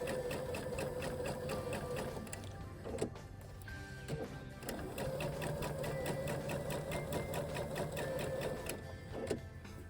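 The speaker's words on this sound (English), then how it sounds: "I'm going to do a little back stitch." A sewing machine back stitches fabric in a close, steady mechanical whir, briefly pausing and restarting a few times with small clicks between runs.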